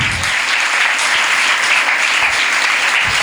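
An audience at a motivational talk claps loudly and steadily, a dense, close burst of applause that fills the whole moment.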